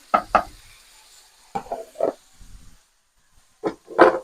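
Red capsicum goes into a pan for pepperoni pasta, giving short bursts of stirring and sizzling separated by quiet gaps, close and fairly soft.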